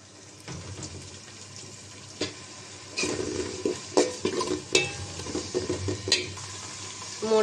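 Onions fry with a little ginger paste added to the pan, a soft sizzle under irregular scraping and stirring clatter. Close, uneven bumps grow busier in the second half, with no talking.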